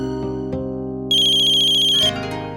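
A telephone ringtone plays loudly and clearly as a call is placed to a mother: a sustained electronic melody with a high, pulsing warble midway, then a shift in tone, with no talking.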